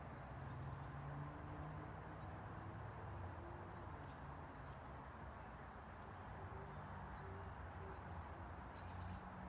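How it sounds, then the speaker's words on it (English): An owl hoots faintly in the distance outdoors at dusk, a few soft low calls over a steady background hiss. "An owl out there."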